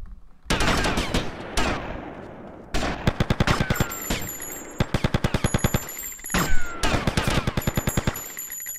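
Automatic gunfire in the video game GTA Vice City, heard as loud, rapid bursts of repeated shots with short pauses between them and thin high electronic tones sounding over parts of the volley.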